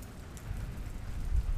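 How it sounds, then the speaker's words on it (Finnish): Light rain patters steadily outdoors as a storm begins, a soft continuous drizzle of drops with no other sounds over it. "Kuuluu tuommoinen ropina."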